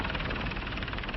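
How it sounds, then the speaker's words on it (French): A helicopter comes in to land during a 1980s French TV treasure-hunt show, its engine and rotor roaring loud and close in a steady, throbbing wash with no voices heard. "On va pouvoir se poser, il y a juste la place pour l'hélicoptère."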